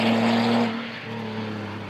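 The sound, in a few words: race car accelerating out of the pit, Nurburgring 24 hours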